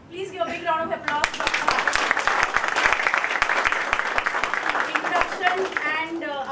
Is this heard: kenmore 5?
no